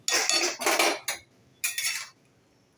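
Ghee and garam masala mixed into jackfruit curry in a pan, a few bursts of metal spoon scraping and clinking against the pan, close and bright, separated by short silences.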